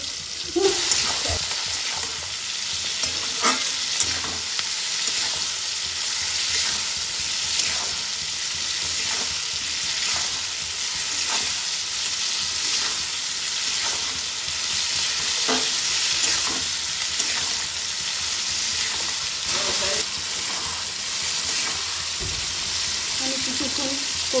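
Dried red chilli paste, boiled and ground, sautéing in a pan for chilli fish, with a steady broadband sizzle and occasional spoon scrapes and stirs running continuously at close range, no talking.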